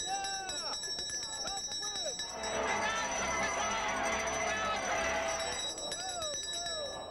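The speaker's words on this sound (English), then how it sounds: "This was the bell, yep." Handheld bell rung by a fan in the Chicago bleachers at a baseball game, a steady rapid clanging ringing for a few seconds in the middle, with a voice speaking before and after.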